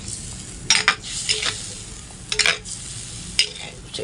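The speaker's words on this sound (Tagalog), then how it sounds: "Ayan, at kumukulo na nga." Adobo boils and sizzles in a pot with a low crackle, broken by a few sharp metallic clinks and scrapes of a utensil stirring.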